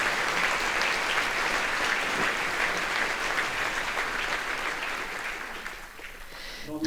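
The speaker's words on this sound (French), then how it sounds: "qui mérite un tonnerre d'applaudissements" Sustained, dense applause from an audience at an award ceremony in Zürich, following a speech, a steady loud wash of many hands clapping that eases slightly near the end, with no talking over it.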